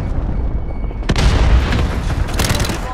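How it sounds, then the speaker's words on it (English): A frag grenade blows up in a Call of Duty (2019) multiplayer Domination match on Suldal Harbor, giving a loud booming blast over constant rumbling battlefield noise and scattered gunfire. "I'll send a couple of frags there."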